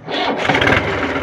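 A tractor engine cranks and catches on a farm before dumping, rising into a loud, rough mid-pitched running clatter close by.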